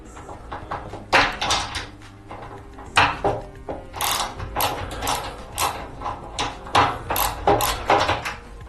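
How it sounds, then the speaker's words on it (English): A 7mm socket or spanner loosens screws on a Skywatcher Classic 250P telescope, giving repeated close metallic clicks and scraping turns in irregular bursts, with no speech. "get a 7mm socket or spanner and just loosen the 4 screws"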